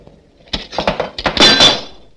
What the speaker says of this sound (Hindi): शीशा टूट चुका है।